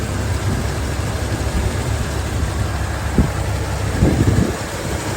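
A 1971 Chevrolet El Camino with a hand choke idles steadily, giving a close, even engine rumble with a few brief knocks or bumps near the end and no voices.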